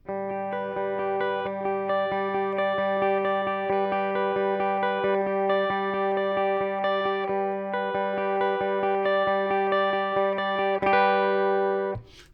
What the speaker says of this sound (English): And I'll show you without the reverb what I was playing.